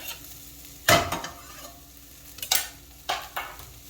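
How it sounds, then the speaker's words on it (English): Garlic and onions hitting a hot frying pan, giving a few sharp bursts of sizzling over a low, steady frying hiss, with stirring noises between them. "I'm going to grab the garlic and add that in there."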